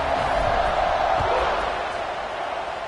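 Football stadium crowd roaring in a steady, dense buzz after a score at a California game, a loud, even wash of many voices with no breaks.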